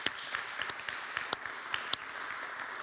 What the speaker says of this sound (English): A big round of applause for you guys.